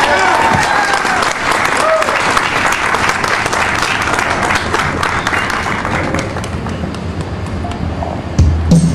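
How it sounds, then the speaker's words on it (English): Loud, dense crowd applause at an outdoor political rally by a county courthouse, many hands clapping steadily and close, with scattered cheers and voices mixed in, tapering slightly near the end. "Give him another warm welcome and round of applause."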